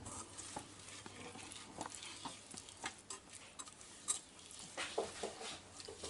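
Honeycomb candy sugar mixture being stirred in a pot on the stove, a steady scraping and soft bubbling patter with small clinks against the pot, close up and continuous, no voices.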